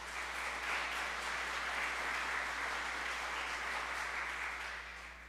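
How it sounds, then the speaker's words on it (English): Sustained applause from a church congregation during a Sunday worship service, steady dense clapping at moderate level for several seconds, fading slightly at the end. "Can we give them all a round of applause?"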